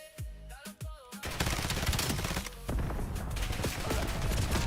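Call of Duty gunfire, where a few tonal game sounds give way to a dense stream of rapid automatic shots that stays loud and continuous to the end.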